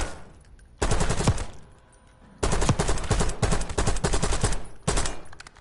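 Automatic weapon fire in the video game Black Ops 6 comes in three loud, close bursts of rapid shots, separated by quieter gaps with faint background game sound.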